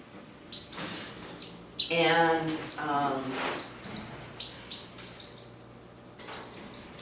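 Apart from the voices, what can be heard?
birds chirping in aviary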